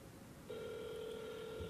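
A telephone rings out on a call placed to a store, a steady tone starting after a brief pause and holding on, faint and alone.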